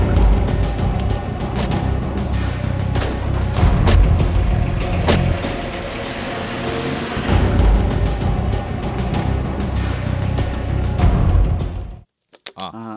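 A car engine starts and the vehicle pulls away, with a steady engine and road rumble lasting about twelve seconds before it cuts off abruptly. Voices are faintly present under the noise.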